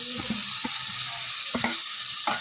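Chopped tomatoes sizzle steadily in a pan for a chicken semi-gravy, with a constant frying hiss and a few soft scraping stirs, close and alone without talk.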